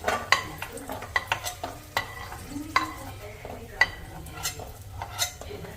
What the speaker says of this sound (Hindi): लड्डू बनाने के लिए यहाँ पे मैं ड्राई फ्रूट फ्राई कर रही हूँ।